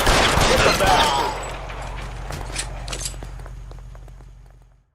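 A loud burst of rapid gunfire in the video game L.A. Noire at the start, then a long echoing decay that fades out over a few seconds.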